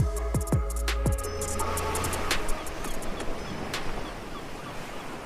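Waves wash in on the Baltic Sea coast in summer, beside limestone rocks, a steady broadband surf hiss with a few sharp louder knocks early on, heard alone without voices.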